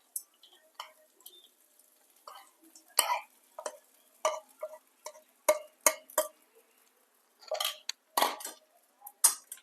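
A spatula works sabudana khichdi and potato pieces around a pan in irregular bursts of scraping and metallic clinks, with near-silent gaps between strokes.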